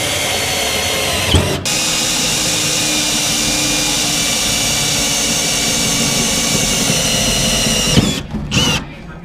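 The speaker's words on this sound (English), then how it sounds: "I'm going to drill those out as well as drilling these out" A power drill bores holes in metal on an S10 pickup during a fuel cell install, running as a loud, steady, high whine for about six seconds and stopping abruptly with brief restarts at the end.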